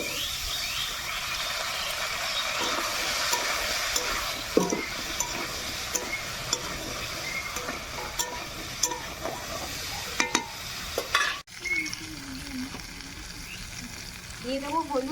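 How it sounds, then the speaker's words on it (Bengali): Potatoes fried until reddish-brown and vegetable stems being stirred and tossed in a hot pan, with a steady sizzle and clusters of scraping stir strokes, plus a few louder clinks near the end. "এবার এর মধ্যে ডাটাগুলো দিয়ে আবার একটু নাড়িয়ে চাড়িয়ে নামিয়ে দেবো"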